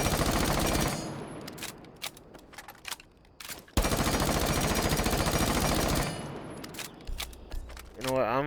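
Automatic gunfire from a rifle fitted with a flash hider in Rainbow Six Siege: long, loud, rapid bursts with short pauses between them and a sharp final volley.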